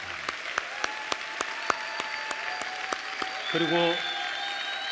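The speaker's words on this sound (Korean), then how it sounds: "우리 하나님께 우리 영광의 박수를 올려드리겠습니다" Church congregation applause during a Sunday worship service, a rhythmic, evenly spaced clapping at moderate distance, with a short spoken word partway through and a voice near the end.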